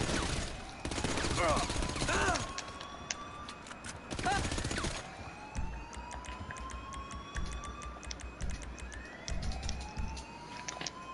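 Gunfire in a Grand Theft Auto Online casino heist shootout: dense bursts of rapid shots and sharp single cracks, loud and fairly close, with voices talking over parts of it.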